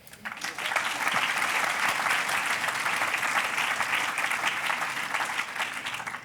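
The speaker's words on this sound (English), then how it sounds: "give another very big round of welcome, of warm applause for Dora Budor, Beatriz Colomina and Jacques Herzog" Dense, steady applause from a large audience at an art and architecture talk, swelling quickly and holding at full strength for several seconds, with faint voices inside it.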